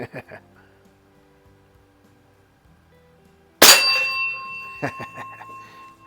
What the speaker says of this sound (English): Let's see if we can ring the bell.